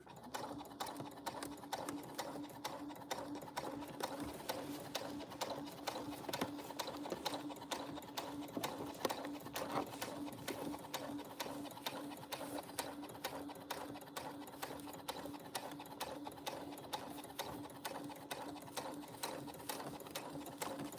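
A sewing machine stitching a bag runs steadily and close up, a constant rapid whirring chatter that goes on throughout without voices.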